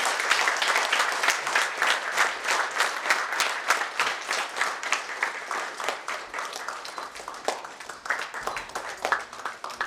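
Audience applause welcoming Dr Jyoti to the stage at a lecture event, a dense steady wash of many hands clapping that holds for the full stretch without any talk.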